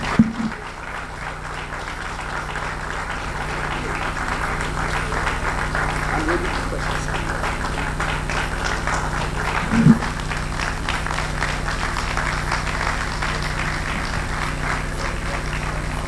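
Audience applause after a speech on disability rights in Ghana, a steady, broad wash of clapping from a large room lasting throughout, with a faint voice and a brief thump near the end.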